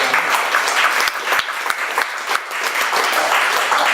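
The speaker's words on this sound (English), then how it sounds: "love getting applause for something I shouldn't have done in the first place." An audience at a Shark Tank-style pitch event applauds a speaker, dense clapping with a few sharper individual claps standing out, sustained at a fairly loud level.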